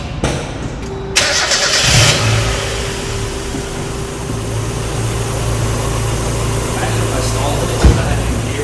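A 1996 Mazda Miata engine cranks and catches, then settles into a steady idle with a low rumble running to the end, with a brief bump near the close.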